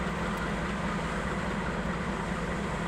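Freight train passing through Lehigh in Northeast Pennsylvania in spring, a continuous broad rumble and rolling roar of rail cars at moderate distance, steady throughout.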